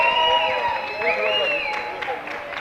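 An audience applauds and cheers for a couple being welcomed at a stationery-business talk event, with steady clapping and a few whoops, while a voice speaks over the crowd.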